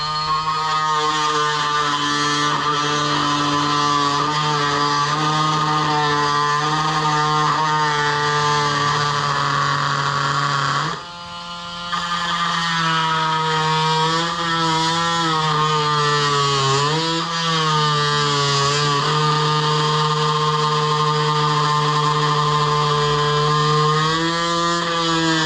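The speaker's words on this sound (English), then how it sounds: "this is with the little wood blade that was supplied with this thing" A DeWalt cordless saw with its supplied wood blade cuts wood held in a vise, a loud, steady buzzing whine held for over twenty seconds with one brief dip and slight pitch shifts as the blade bites.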